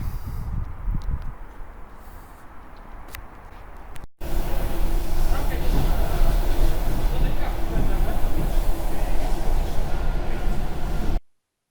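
An electric commuter train rolls along with a loud, steady rumble and rail noise, heard from onboard after a quieter opening stretch.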